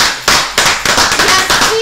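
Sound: applause and cheering

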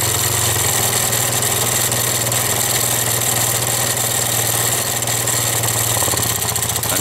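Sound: scooter engine idling, MBK, Vespa or Piaggio

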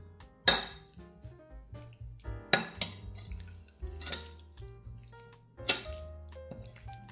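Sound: mixing food with salt and pepper in a dish

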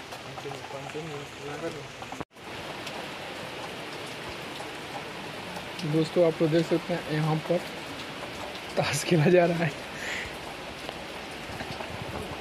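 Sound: heavy rain falling

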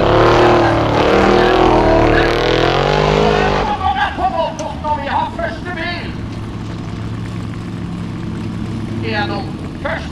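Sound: formula offroad race car driving past

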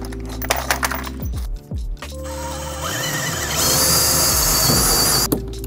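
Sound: power drill

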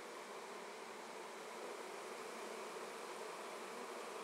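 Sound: honey bees buzzing

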